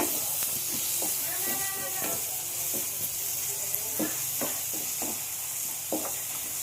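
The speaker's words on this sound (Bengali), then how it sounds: "আবারও ভালো করে মশলার সাথে মিশিয়ে নেব" Spice masala with a pinch of sugar stir-fried in a pan for dahi rui, a steady sizzle and hiss under repeated scraping strokes of a spatula, close and even throughout.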